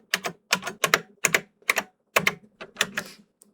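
Computer keyboard keys are pressed in quick bursts of sharp, close clicks, several keystrokes in irregular clusters separated by short pauses, with no voices.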